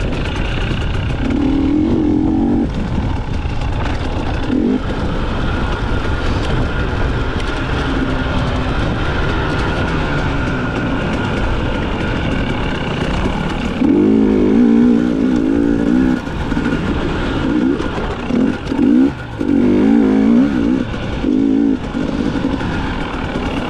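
A dirt bike engine drones through a hare scramble race on a ridge course, a continuous loud buzzing note that rises and falls with throttle changes and bogs in spots, up close throughout.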